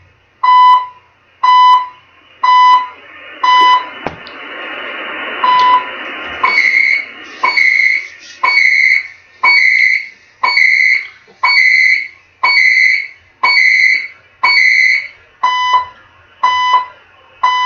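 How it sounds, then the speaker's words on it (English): The CHU Canada shortwave time signal on 3330 kHz gives loud, evenly spaced one-second beeps over faint radio hiss. A short stretch of static noise briefly interrupts the pulses. "So CHU Canada time signal 3330."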